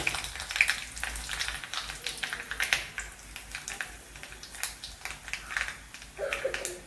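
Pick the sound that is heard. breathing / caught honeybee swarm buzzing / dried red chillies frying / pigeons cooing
dried red chillies frying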